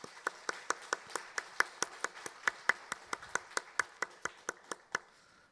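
Church congregation clapping in unison to give glory to God: about two dozen sharp, evenly spaced claps in a steady rhythm, crisp and fairly close, each one sounding on its own against a quiet background.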